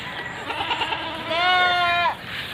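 A ten-day-old goat kid on a small Philippine farm gives a loud, close, drawn-out bleat after some softer earlier sounds, heard alone without talk.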